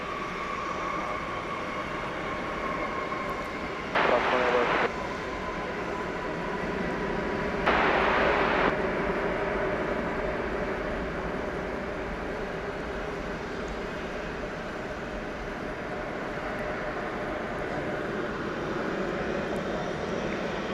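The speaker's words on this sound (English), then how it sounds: "here comes the Eva Air Cargo" An EVA Air Cargo freighter arriving at DFW Airport from Anchorage, a steady broadband engine roar holding throughout at moderate loudness, with two brief louder bursts of noise partway through.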